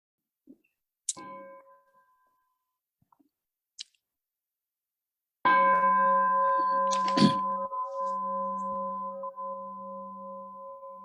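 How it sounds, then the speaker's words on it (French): A bell strikes once and rings on with a steady, sustained tone that slowly fades, clear and close in an otherwise quiet setting, after a few faint soft knocks. "peut-être un son de cloche"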